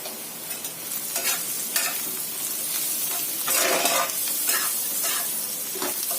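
Green chillies fry in hot oil in a pan for stuffed pointed gourd, giving a steady close crackling sizzle with stirring scrapes throughout.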